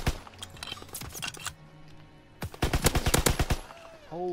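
A gun fires in the Call of Duty: WW2 video game, first in a ragged string of close shots, then a pause, then a second quick burst of loud rapid rounds. A voice begins briefly at the very end.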